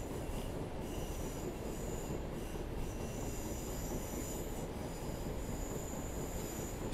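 A Class 150 train's wheels squeal steadily as it rounds a slow curve into Bristol Temple Meads station, a loud continuous metallic screech with rumbling running noise beneath it and no talking.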